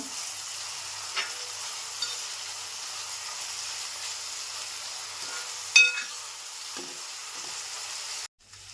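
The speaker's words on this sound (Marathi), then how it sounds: "आता मी एक टोमॅटो कापून घेतला आहे बारीक असा, तो पण टाकते." Chopped onion and tomato frying in a pan for a home-style veg kurma, a steady soft sizzle with a few faint stirring clicks and one brief clink.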